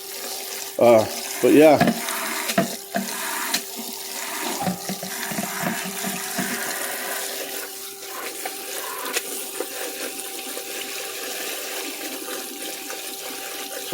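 Pasta Zero spaghetti rinsed under a running kitchen tap, a steady splashing water stream with a few louder sloshes near the start, close by, with a brief spoken remark.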